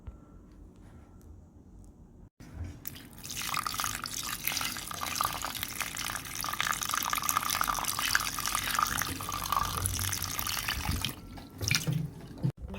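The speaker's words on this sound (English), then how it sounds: "I'm just gonna put some water on this and allow the flavor to become" Water pours steadily onto fruit in a pan for a summer juice, a close, continuous rushing stream lasting about nine seconds after a brief quiet start, then tapering off abruptly.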